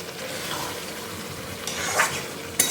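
Curry being stirred and fried in a pan, a steady close sizzle with scraping stirs and a sharper clatter near the end, with no talking.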